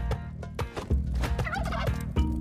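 Turkeys gobbling in the Spelunky 2 video game, a run of loud, close, repeated gobbles in quick bursts over game sounds, with no talking.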